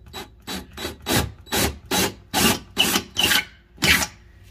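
A drill bores into drywall while mounting an Amazon Basics wall coat rack, producing about ten loud rhythmic grinding, rasping strokes in close succession, each swelling and fading, with no talking.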